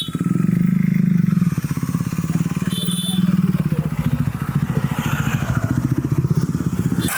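Stop-and-go traffic on a road in North Goa, with motorcycle engines idling and puttering close by in a continuous pulsing drone, plus occasional clatter and a faint voice in the background.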